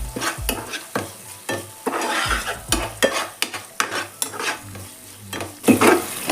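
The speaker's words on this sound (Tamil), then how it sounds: "சீரகத்தூளும் கஸ்தூரி மேத்தி ஒரு பிஞ்ச் போட்டு நல்லா கிண்டி விடும்" A spoon stirring tomato masala frying in a pan with cumin powder and a pinch of kasuri methi, repeated scraping strokes and knocks against the pan over a bubbling sizzle, close and uneven in rhythm, no talking.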